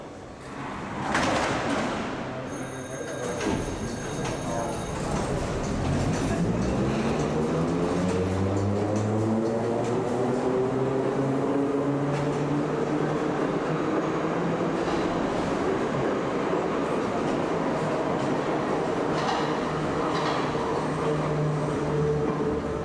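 A Berlin U-Bahn type E3 subway train, a rebuilt car on old S-Bahn running gear, pulls away with rising motor whine and continuous loud rail rumble that holds steady throughout.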